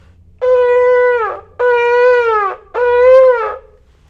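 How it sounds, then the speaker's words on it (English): A shofar plays shavarim as three separate broken, sobbing notes, each about a second long and bending down at its end, loud and close, with short gaps between them and no talking. "that sound, the shavarim, sounds like this on the shofar"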